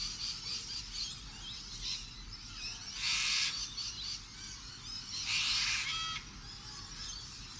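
Little corellas, white cockatoos, calling around their nest hollows: harsh screeches and squawks come in bursts, with two loud close outbursts among fainter chatter.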